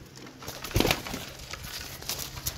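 Pigeons cooing softly at a loft in Gujrat, with a few low, faint coos and slight rustling over a quiet background.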